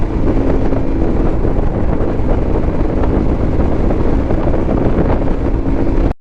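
A motorbike engine runs outdoors with a low, continuous drone, heavily buffeted by loud wind noise on the microphone throughout.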